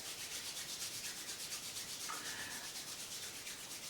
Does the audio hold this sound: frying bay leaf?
no